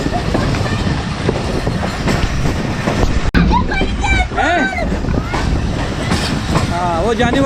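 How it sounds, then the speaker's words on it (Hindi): Safari train running on rails between Taxila and Rawalpindi in Pakistan, a continuous loud rumble with clattering wheels throughout, while people talk nearby over the noise. "हाँ ये सफारी ट्रेन है"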